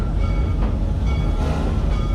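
Steam train ride at Busch Gardens in Tampa, Florida, heard from aboard as a loud continuous rumble of wheels and carriages with faint rhythmic clacking.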